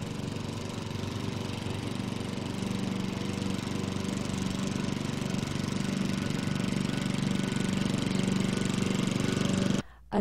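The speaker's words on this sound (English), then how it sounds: "A gas lawnmower 31 meters or 100 feet away will create a sound level of approximately 75 decibels." A gas lawnmower engine runs steadily at a distance, a continuous loud mid-pitched drone with a rough, chattering texture that holds for about ten seconds before cutting off abruptly near the end.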